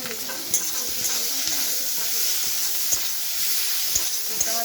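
Egg masala fries in a pan with Kashmiri red chili powder and turmeric, giving a steady close sizzle broken by regular scraping strokes of a spoon stirring the mixture.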